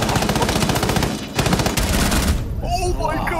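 Rapid automatic gunfire in Rainbow Six Siege, loud sustained bursts with a brief pause partway, then the shooting stops and a voice starts talking near the end.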